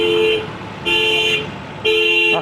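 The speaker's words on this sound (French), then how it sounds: "Ah, les alarmes aussi." A car alarm or horn sounds on a busy Antananarivo street at night, three loud, evenly spaced bursts about a second apart over a low background hum.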